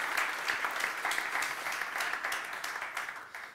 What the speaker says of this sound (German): gibt man ein ganz großes Applaus an unsere Mentoren